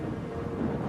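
Strong gusts buffet the microphone outdoors near heavy equipment, a dense, steady low roar with no clear breaks and no voices.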